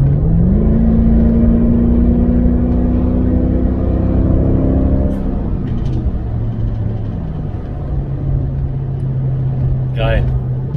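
Deep Mercedes-AMG car engine rumble with a steady drone that shifts pitch midway, loud and close, with a faint high squeak near the end.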